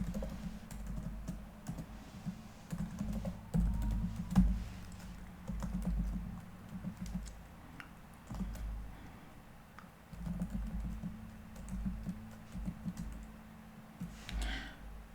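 Password being entered on a computer keyboard, with bursts of quiet, rapid keystrokes separated by short pauses and no speech.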